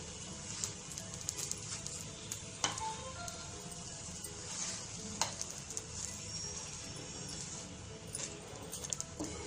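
An egg dosa, an omelette-style dosa, sizzles steadily as it roasts on a hot pan, a constant close frying crackle with occasional sharp pops and light scraping, no talking.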